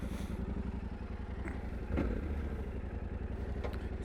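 A Yamaha Tenere 700 motorcycle fitted with a lowering kit runs under the rider, a loud steady close engine throb with a rhythmic pulse, briefly swelling midway and continuing with no talk.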